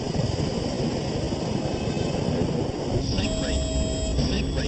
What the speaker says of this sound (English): the plane approaches the runway, the nose is pointing dangerously low and the left wing is dropping